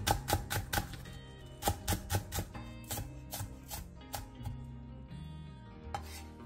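A knife chops one cheongyang chili pepper, half a red chili and a third of a green onion on a cutting board in a home kitchen, with quick bursts of crisp, close taps in uneven rhythmic runs separated by short pauses.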